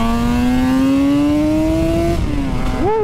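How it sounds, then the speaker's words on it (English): A Suzuki RG500 two-stroke motorcycle engine revs up in a rising whine, then the throttle is blipped, loud and close with a raspy exhaust note. "I love the blipping and the theatre of it."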